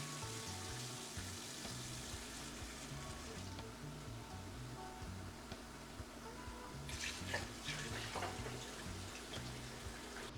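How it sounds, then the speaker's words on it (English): Basmati rice rinsed under room-temperature running water, a steady broadband wash of flowing and splashing water with grainy patter throughout, fairly close and continuous, with no talking. "you wanna run it under room temperature water 3 to 4 times"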